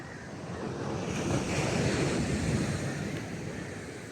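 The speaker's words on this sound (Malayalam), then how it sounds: "ഇത്ര മനോഹരമാണ് തിരയൊക്കെ അടിച്ചിങ്ങനെ വരുന്നത് അല്ലേ." Sea waves crash and wash onto the shore at Perumathura, a steady, loud, rumbling surf that swells and recedes with some wind noise, with no voices.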